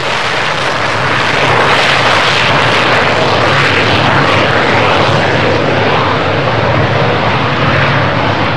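An F-16 fighter jet flying overhead at a military display, a loud, continuous broadband engine roar that holds steady across the whole stretch without letting up.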